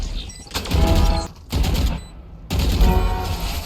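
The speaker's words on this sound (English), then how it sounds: "Look at these lucky shots." Bursts of gunfire from Valorant trick-shot kills, loud rapid shots in close succession with short gaps between volleys.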